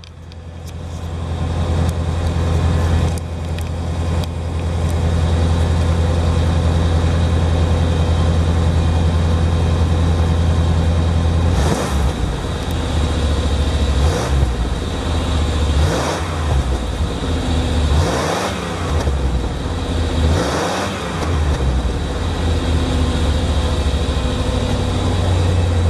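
Engine of an old van that has been sitting, running on brake cleaner, a loud close mechanical roar sustained throughout with several surges of revving toward the end.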